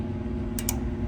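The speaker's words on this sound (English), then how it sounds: "You can hear that relay clicking on this board." A relay on a gas furnace control board clicks twice in quick succession, sharp and close, over a constant low electrical hum.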